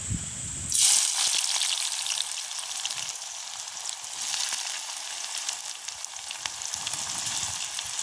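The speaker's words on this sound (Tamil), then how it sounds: "இப்போ நாங்கள் வெட்டி வச்சுக்கிற வெங்காயத்தை பொரிச்சு எடுப்போம்" Chopped onions frying in hot oil in a village kitchen: a loud initial sizzle as they hit the pan, settling into a steady crackling hiss that continues throughout, with no voices.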